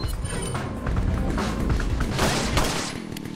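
Explosions and gunfire from the 1996 Resident Evil video game, a dense continuous burst of shots and booms filling the clip at steady loudness with no talk over it.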